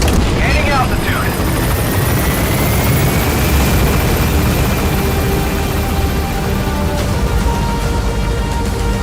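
Extraction helicopter lifting off in Metal Gear Solid V: The Phantom Pain, a loud steady rotor thump and turbine whine that fills the whole stretch, with a voice briefly heard over it.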